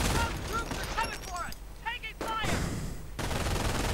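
Rapid machine gun fire from an MG team in a 1v1 real-time strategy match, loud repeated bursts mixed with rifle shots and battle noise, with someone commentating over it.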